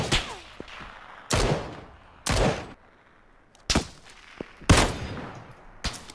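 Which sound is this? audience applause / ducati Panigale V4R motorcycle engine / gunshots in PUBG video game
gunshots in PUBG video game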